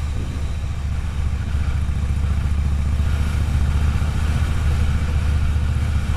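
A Harley-Davidson motorcycle engine rumbles steadily and close by, a low continuous throb with faint mechanical clatter and no talking.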